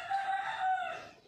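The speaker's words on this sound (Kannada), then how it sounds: "ನಮ್ಮ ಕೋಳಿ ನೋಡಿರಿ, 3 ಗಂಟೆಯಲ್ಲಿ 4 ಗಂಟೆಯಲ್ಲಿ 5 ಗಂಟೆಲೆಲ್ಲ ಕೂಗುತ್ತೆ" A single rooster crows once near a rural home, a sustained, ringing call about a second long that fades at the end, heard clearly with no voices.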